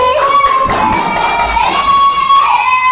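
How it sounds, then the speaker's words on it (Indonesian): A classroom of children in groups clap together after an activity, with excited shouting and chatter mixed in. Loud, close and continuous across the whole moment. "Tepuk tangan dulu untuk kita semua hari ini."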